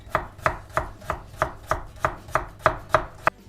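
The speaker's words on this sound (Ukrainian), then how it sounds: "Нарізаємо слайсами. Отак навпіл спочатку." A knife chops through potatoes on a cutting board, slicing them into halves and slices: about ten sharp, evenly spaced knocks in a steady rhythm, close and clear with no talking.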